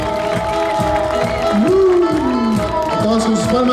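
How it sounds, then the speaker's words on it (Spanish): An audience at a religious music festival in Saucito claps in steady rhythm along with singing voices. "Aplauso para el Señor."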